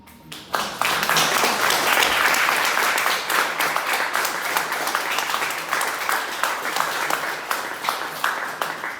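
An audience applauds at a panel discussion for a photography exhibit, a full, sustained round of clapping that swells quickly and holds steady before slowly thinning.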